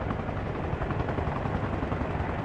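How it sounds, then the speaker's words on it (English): A helicopter in the military video game Arma Reforger gives a steady, loud rotor thrum and engine roar that fills the whole stretch without letup, with no voices over it. "Looks like we got two helicopters now."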